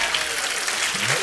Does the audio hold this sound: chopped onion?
no